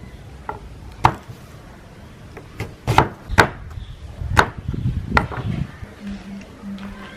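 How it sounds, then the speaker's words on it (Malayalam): A knife cuts jackfruit into small pieces on a board for a chilli jackfruit dish, with about eight sharp, irregular knocks close by, some in quick pairs, between quieter handling sounds. "നമ്മളിനി ഇതിനെ ചെറിയ കഷ്ണങ്ങളാക്കണം."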